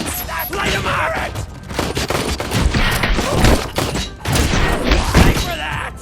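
Rapid bursts of enemy gunfire crackle in a RoboCop Rogue City shootout, dense overlapping volleys with heavy thuds and mechanical clatter, loud and close, with shouting voices mixed in.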